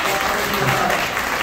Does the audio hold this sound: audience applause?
yes